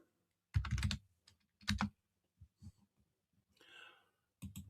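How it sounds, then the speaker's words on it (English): Typing on a computer keyboard in short bursts of quick clicks separated by pauses, close and fairly quiet, with a faint breath between them. "You have to excuse me typing a second."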